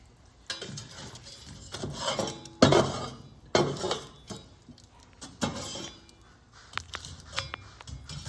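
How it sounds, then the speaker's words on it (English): Hot coals scraped and set onto a cast-iron Dutch oven lid outdoors while baking a sweet potato pie: repeated metallic clanks and gritty scraping in irregular bursts, close and moderately loud, with no talking. "So we're going to put some coals on top, and then once we do that, we will add some coals to the bottom as well."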